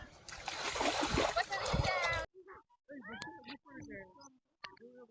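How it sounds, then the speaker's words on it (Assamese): People bathing in the Brahmaputra river at Kamalabari ghat, Majuli, splashing loudly and close for about two seconds, after which voices talk and call out. "নদীত গা ধুই আছো এতিয়া"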